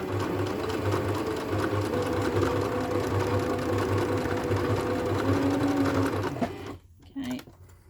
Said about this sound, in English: we're going to sew that down